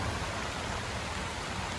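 Steady rain falling outdoors during a bicycle trip near Lake Peipus in Estonia, a dense even hiss throughout with a brief thump at the end.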